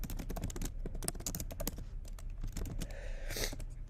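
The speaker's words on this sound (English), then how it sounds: "Kate, I'm typing up the rambling that I just did" Fast, irregular key clicks of typing on a computer keyboard fill the stretch, close and fairly quiet, with a brief burst of heavier strokes near the end and no talking.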